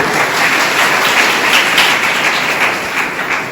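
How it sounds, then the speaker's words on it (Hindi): A church congregation claps loudly for God during a Hindi-language sermon, a dense, steady wash of applause filling the room without a break. "परमेश्वर के लिए जोर से ताली बजाइए"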